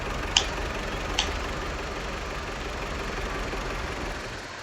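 Tractor engine idling in Farming Simulator 22, a steady low rumble with a continuous broadband drone throughout, two brief sharp clicks near the start, tapering slightly at the end.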